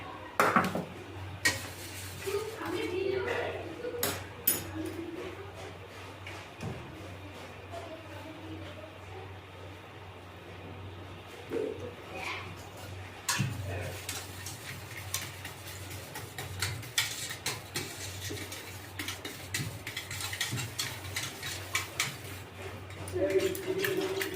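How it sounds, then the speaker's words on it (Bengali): Powdered sugar stirred into curd and water for lassi, with repeated clinking and tapping of a spoon against the vessel in irregular bursts, partly under talking. "এটা ভালো করে মিশাতে হবে।"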